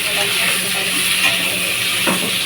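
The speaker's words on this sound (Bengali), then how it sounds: "আলুটা এরকম ভেজে নেবেন।" Potatoes fry in a pan with a steady, close, broadband sizzling hiss that continues without a break.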